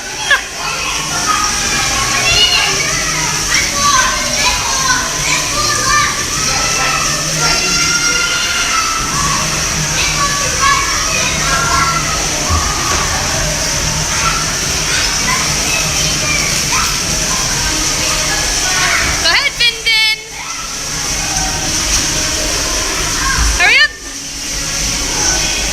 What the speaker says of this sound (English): This is the splash pad area on the Disney Dream